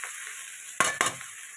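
Bathua greens with garlic, green chillies and sliced beans fry in a pan with a continuous sizzle, broken by two sharp, louder scrapes of stirring near the middle.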